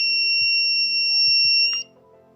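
The buzzer of a fire alarm circuit sounds a loud, steady, high electronic tone close by for under two seconds, then cuts off, leaving a faint low hum and a few small clicks.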